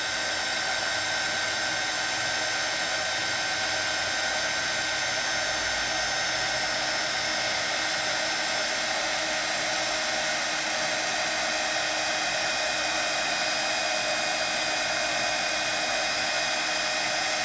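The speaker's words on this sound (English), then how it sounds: "And I hold my heat tool until it's time to move it." A craft heat tool for embossing blows hot air in one continuous, loud, unchanging whoosh, alone and steady throughout with no talking.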